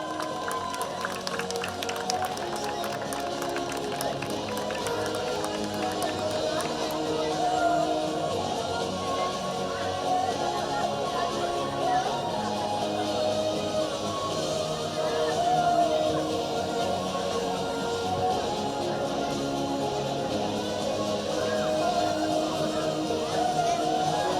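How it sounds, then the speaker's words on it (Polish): A crowd applauds and cheers for the host team at the closing ceremony of a youth football tournament, steady clapping and shouts sustained throughout under a busy hall-like ambience. "Wielkie brawa!"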